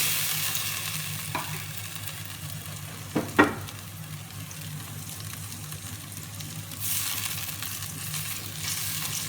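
Onions fry and get stirred in a large pot of degi-style beef korma, giving a steady low sizzle with a couple of brief utensil clatters and a brighter hiss toward the end.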